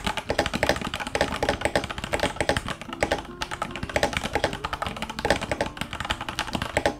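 A muffled linear mechanical keyboard is typed on fast and steadily, the keystrokes close, crisp and fairly loud, with rapid clacks in a continuous run and no voices.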